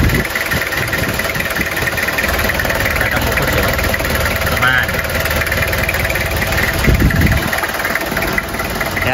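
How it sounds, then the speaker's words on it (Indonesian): A late-1990s Toyota Kijang Kapsul diesel engine idles with a steady, knocking clatter that runs close and loud for the whole stretch, with people talking over it. "kita coba nyalakan"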